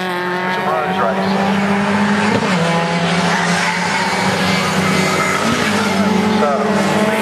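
Racing cars roar continuously around Cadwell Park circuit during a 2010 race, loud and close with sustained engine whine, while a commentator talks over the action.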